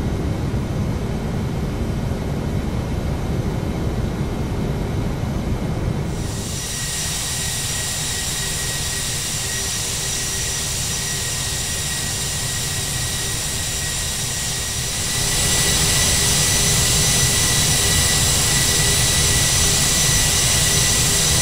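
Steady roar of TFDi 717-200 jet engines spooling up for takeoff in the Prepar3D flight simulator, loud and continuous, with a sharp rise in high whine and thrust noise about two-thirds through; no talking.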